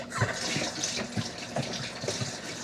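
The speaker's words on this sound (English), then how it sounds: "I'm going to give my hands a rinse." Kitchen tap water runs steadily while hands are rinsed under it, a close, continuous splashing with small irregular spatters and no talking.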